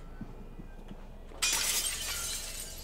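Glass shattering in the video game Prey, a sudden bright crash that breaks in partway through quiet footsteps and ambient hum, then trails off into tinkling shards.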